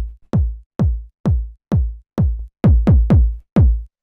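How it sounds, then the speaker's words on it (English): A short, punchy 909-style kick drum without saturation, played dry and alone: about nine booming thumps, mostly evenly spaced, with a quicker cluster of three near the end. "kind of more punchy 909 style kick"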